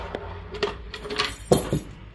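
Car keys clink and jangle in a few brief metallic bursts, close and sharp, with short pauses between shakes.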